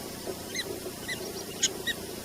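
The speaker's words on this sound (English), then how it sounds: "Prairie dogs have an extensive range of vocal calls and body signals, most famously the warning bark" A handful of short, high-pitched chirping warning barks from a prairie dog repeat at irregular intervals, fairly faint over a background hiss.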